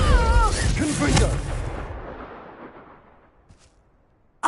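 A Confringo fire-spell blast in Hogwarts Legacy on PS5 bursts loudly at the start, its booming roar fading over a few seconds to near silence, with a voice calling out over the opening and a fresh hit at the very end.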